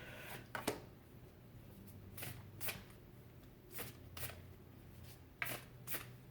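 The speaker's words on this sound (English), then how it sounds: "so it's a little harder for me to shuffle." Large oracle cards being shuffled by hand nearby, a run of soft riffling bursts and slaps at irregular intervals over quiet room tone.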